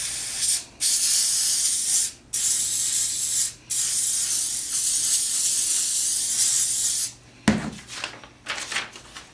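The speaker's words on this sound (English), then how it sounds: "Next, I'm going to attach the pattern of the tree with some spray adhesive." Spray adhesive hissing from an aerosol can to attach a paper tree pattern to a wooden band saw box: several long, steady bursts split by brief pauses, close and loud, followed by a short clatter at the end.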